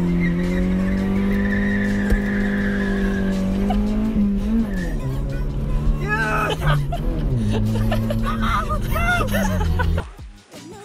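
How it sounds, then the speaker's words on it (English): R50 Mini Cooper doing a burnout: a loud sustained tire squeal with a droning engine, shifting pitch as revs change, with people talking and exclaiming over it, cutting off near the end. "My man's actually did a burnout. We'll put the clip in right now."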